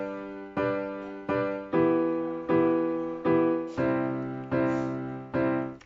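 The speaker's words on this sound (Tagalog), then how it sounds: "ito naman yung tunog ng piano" Eight separate piano chords ring out at a steady, moderate pace, each struck cleanly and left to decay before the next, clear and close with no voices.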